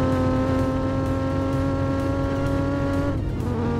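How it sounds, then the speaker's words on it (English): A Roblox video-game car engine accelerates with a loud, steady rising whine, then drops in pitch on a gear shift near the end, with no talking. "Hitting fifth gear now."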